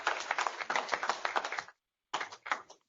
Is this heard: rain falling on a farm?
no